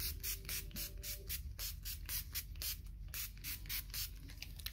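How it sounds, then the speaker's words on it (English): Short repeated hisses of NYX matte finishing spray misted onto a face during a makeup routine, a steady series of close, faint pumps with no talking. "And then I use some NYX matte finishing spray."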